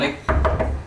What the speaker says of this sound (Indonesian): Melek, cepat buka pintu, Bung